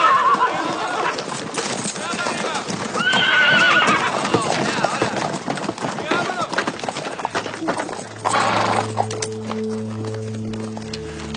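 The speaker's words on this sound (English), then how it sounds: "The horses as well." Horses on a period battlefield, with repeated neighs and whinnies over busy clip-clopping hooves and scuffling, fairly close, then a low sustained tone swelling in near the end.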